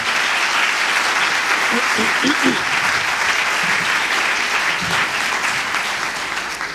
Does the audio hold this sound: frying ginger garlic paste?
no